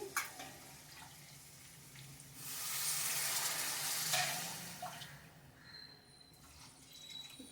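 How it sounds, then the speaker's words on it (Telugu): Water poured into a hot frying pan of fried tomato pieces, a burst of rushing, hissing sizzle for a couple of seconds that then fades to a quieter bubbling. "దీంతో 2 గ్లాసులు నీళ్ళు పోసుకోవాలి"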